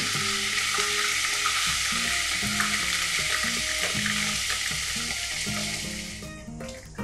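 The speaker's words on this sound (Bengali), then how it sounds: "আদাটা একটু ভাজা ভাজা হবে।" Ginger paste fries with whole garam masala in hot oil, a loud continuous sizzle with a spatula repeatedly knocking and scraping the pan, easing off slightly near the end.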